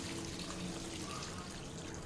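Water poured over dried chickpeas in a pot with salt, cooking senagalu for prasadam; a steady, close rushing pour that fills the whole moment without pause.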